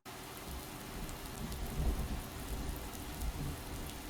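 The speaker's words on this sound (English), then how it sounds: "There's plenty of rain around Somerset today." Steady heavy rain with low rumbling thunder in a Farming Simulator 19 autumn scene on a Somerset farm, a dense continuous wash with deep rolls swelling midway.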